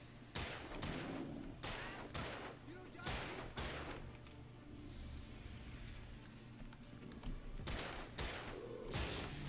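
Gunshots fired at big lumberjack enemies in the game Alan Wake, a series of loud separate shots spaced irregularly with gaps between them over a quieter eerie background.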